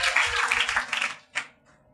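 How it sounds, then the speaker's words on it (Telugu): A church congregation claps together in a burst of dense, rapid applause that fades out, followed by one short final flurry of claps. "అందరూ కూడా చప్పట్లు కొడదాం"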